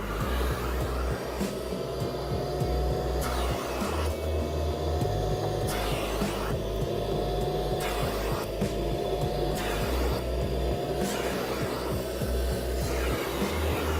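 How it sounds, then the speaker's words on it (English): Kärcher Puzzi 10/1 spray extraction cleaner running its vacuum on upholstery, a steady droning motor hum with a rhythmic pulsing of suction strokes throughout. "Then I'm going to turn my vacuum on."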